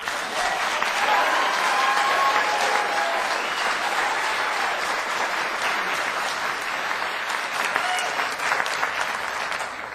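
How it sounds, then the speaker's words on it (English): Sustained applause from an audience at a city council meeting, many hands clapping loudly and continuously for the full stretch, with a faint murmur of the crowd beneath. "Every time you applaud like that"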